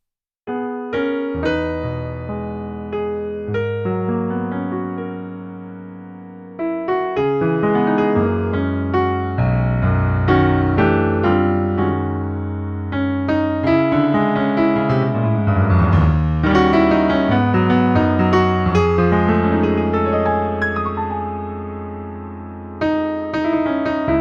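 A solo piano plays the slow, lush intro of a song with rich sustained chords and a melody above, full and close, no voices.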